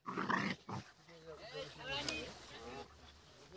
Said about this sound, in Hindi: ये पिटबुल का बच्चा है।